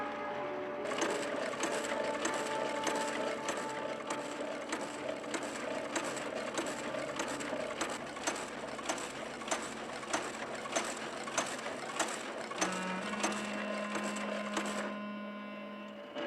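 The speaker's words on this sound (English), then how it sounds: "It arranges the cards according to their various codes at the rate of 800 cards a minute" A computer punch card sorter runs steadily, sorting cards at 800 per minute, a dense mechanical clatter of rapid regular ticks and whirring gears, with a sustained tone entering near the end, faint and recorded from an old broadcast.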